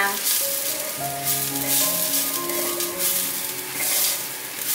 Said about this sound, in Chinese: 锅内放入少许油，油热了之后放入芹菜， 把芹菜炒香